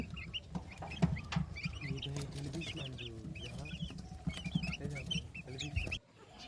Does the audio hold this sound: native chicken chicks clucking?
yes